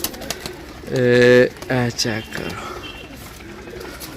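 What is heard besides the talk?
pigeons cooing while being handled and shown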